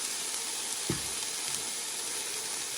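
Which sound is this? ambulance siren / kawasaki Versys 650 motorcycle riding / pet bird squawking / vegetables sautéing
vegetables sautéing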